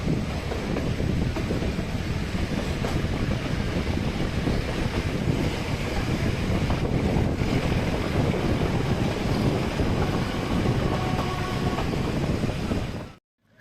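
The Ooty toy train, a rack-and-pinion mountain railway, climbs steep gradients on its 46 km line up to 6,159 feet, making a steady, loud, continuous rumble mixed with heavy wind buffeting, with no talking.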